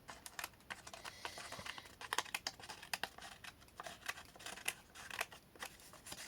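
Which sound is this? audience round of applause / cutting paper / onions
cutting paper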